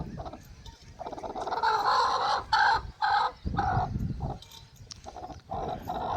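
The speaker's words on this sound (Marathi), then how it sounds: "अंड्यांसाठी धावपळ बघा किती आहे कोंबडीची" A hen settling on eggs clucks and grumbles in low, throaty bursts close by, with a few louder squawking phrases between quieter pauses.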